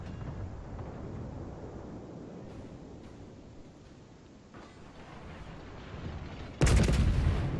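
Warship main battery salvo from World of Warships aboard the Monarch: a sudden loud, booming blast near the end that breaks a low rumbling background.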